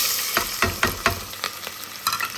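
Garlic and onion go into a small amount of hot oil in a small cooker, crackling and sizzling close up in sharp, irregular bursts as they hit the pan and are stirred.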